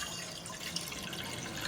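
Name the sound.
water poured into a kadhai on the gas stove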